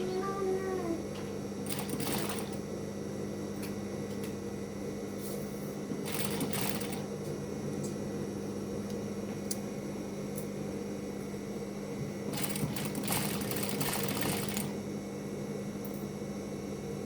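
A sewing machine runs steadily up close while stitching a front zipper, a continuous whirring hum with several brief bursts of faster stitching rising above it.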